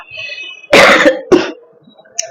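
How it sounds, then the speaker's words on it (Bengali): Two harsh coughs up close, one loud burst followed by a shorter one, with a brief throaty sound afterward. "কথা বলতে বলতে এরকম কাশি আসতেই পারে"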